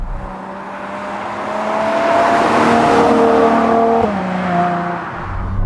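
A Ferrari GTC4Lusso's 6.3-litre engine drones steadily and loudly as the car drives, its pitch rising and falling slightly through gear and throttle changes, with no voices over it.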